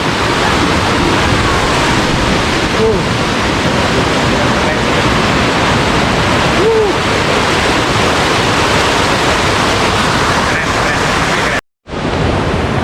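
Steady, loud broadband rush of a river flowing beneath a suspension bridge in the Sukabumi valley, a continuous roar with wind buffeting on the microphone and a brief cutout near the end.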